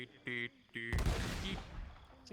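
After two short electronic tones, a video game SRM weapon fires with a sudden heavy blast that rumbles and decays over about a second, followed by a further burst.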